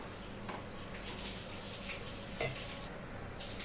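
Jowar (sorghum) dosa batter cooks on a hot griddle, giving a faint steady sizzle with a few soft scrapes and light clinks, and no one talking.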